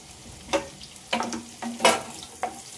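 Onions frying in oil with bay leaf, cinnamon, cardamom and cloves for paneer curry, a quiet background sizzle broken by several distinct stirring clatters of a spoon against the pan, spaced about half a second apart.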